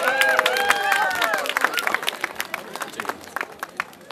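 A crowd at a village carnival applauds and cheers, dense clapping with voices calling out over it, thinning to scattered individual claps toward the end.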